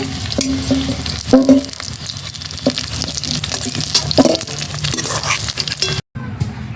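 Potatoes frying in oil, a continuous close sizzle broken by clinks and scrapes of a utensil against the pan, with a brief dropout near the end.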